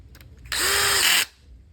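A power tool drives in bolts during cross-tightening, one short loud whirring burst of under a second that rises in pitch, then stops abruptly in a quiet room.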